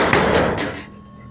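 Someone knocks on a door: a short, loud burst of wooden raps close by, fading into quiet after about a second.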